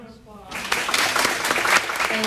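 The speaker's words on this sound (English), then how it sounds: "let's give her a round of applause." A voice speaks briefly, then warm applause from a small crowd at a community meeting swells up and carries through to the end.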